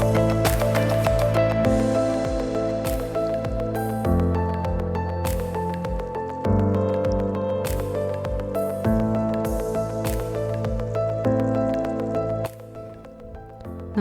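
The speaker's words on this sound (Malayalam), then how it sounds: "ഇത് ചൂടോടെ നമ്മുടെ പാൽക്കപ്പയിലേക്ക് ഒഴിക്കാം." Hot tempering oil with curry leaves poured onto milk-cooked tapioca gives soft sizzling, squishing and dripping sounds, close and fairly quiet, with no talk.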